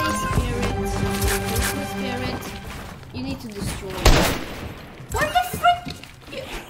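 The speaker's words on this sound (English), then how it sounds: "He's shooting at me." Video game gunfire pops in scattered bursts amid busy game effects and music, loudest around the middle and end, mixed under a player's talk.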